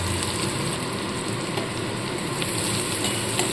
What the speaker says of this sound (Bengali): পেঁয়াজটাকেও হালকাভাবে ভেজে নেব